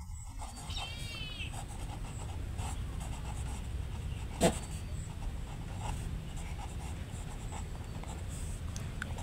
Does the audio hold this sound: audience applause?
no